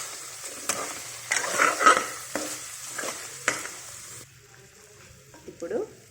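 Paneer fried rice stirred in a hot pan with soy sauce and tomato sauce, steady sizzling under repeated scraping strokes of the spoon, loud and close, then the frying dies down to quieter scrapes.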